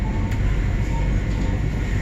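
Trenitalia regional train running at about 91 km/h, heard from inside: a steady low rumble and rolling hum with faint rattles, continuous and fairly loud.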